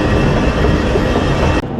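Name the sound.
train at Berlin main station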